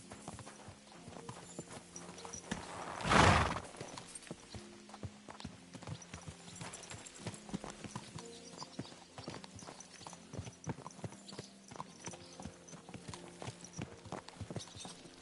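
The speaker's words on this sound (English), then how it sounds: "So mount up and we'll ride out." Horses riding out in Kingdom Come: Deliverance II, with a steady rhythmic clip-clop of several sets of hooves throughout and one brief loud rushing burst near the start.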